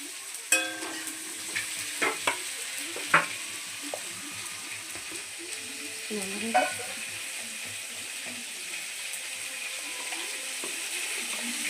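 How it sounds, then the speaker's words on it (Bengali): Dried red chillies and panch phoron fry in hot oil, a faint steady sizzle with a few sharp clinks and stirs early on and a brief scrape midway, otherwise quiet. "আমি এবার পাঁচ ফোড়ন দিয়ে দিলাম এই পাঁচ ফোড়নটা ভালো করে একটু লাল লাল হবে"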